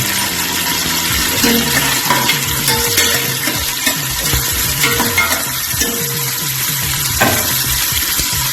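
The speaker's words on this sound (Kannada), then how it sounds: "ನೀರುಳ್ಳಿಯನ್ನು ಸರಿಯಾಗಿ ಫ್ರೈ ಮಾಡಿ" Onions fry in coconut oil inside a pressure cooker, giving a loud, continuous sizzle with occasional stirring scrapes throughout.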